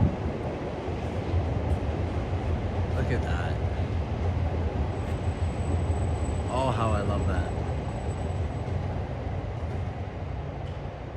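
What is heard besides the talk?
trains passing in Tokyo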